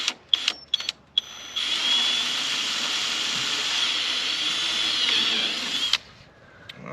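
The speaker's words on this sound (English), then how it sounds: "all you got to do is drill a hole" A power drill bores a hole in a plastic chicken waterer, a few short bursts giving way to a steady whining buzz for about four seconds before it stops abruptly.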